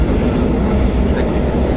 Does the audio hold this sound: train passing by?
yes